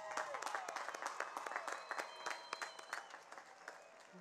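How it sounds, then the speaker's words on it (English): Applause at a high school graduation ceremony, a steady wash of many hands clapping at moderate distance, dense and even throughout with faint voices mixed in. "One more round of applause for them."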